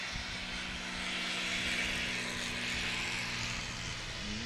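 A small propeller airplane, a Zenith, takes off at a short-field STOL competition at an airport, a steady, moderately distant engine drone with a faint propeller buzz and a tone that bends upward near the end.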